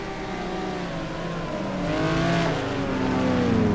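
Race cars circulate at Spa in a sim GT racing game, a loud engine note rising and swelling through gear changes as several cars run close together, growing louder toward the end; no voices.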